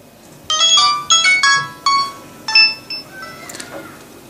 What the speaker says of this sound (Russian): Включаем телефон.